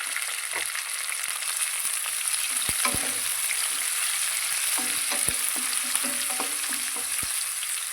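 Curry leaves and chopped green chili frying in oil for a brinjal and fresh chana dal curry, a constant bright hiss of sizzling oil with occasional crackles and light utensil taps, close up and alone.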